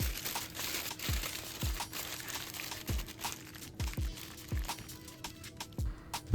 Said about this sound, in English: wrap them tightly in foil